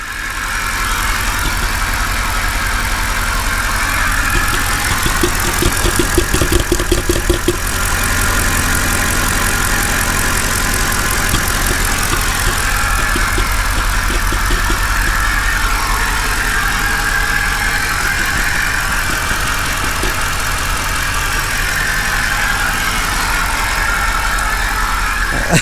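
A 2008 Mercedes CLK engine runs steadily after a starter repair, a loud continuous idle with a slight rough patch early on, heard close up without talk.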